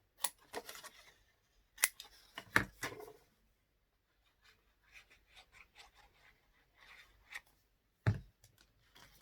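Scissors snip small bevels into paper for a scrapbook mini album, with several sharp close cuts near the start and end and softer rustling and handling of the paper in between.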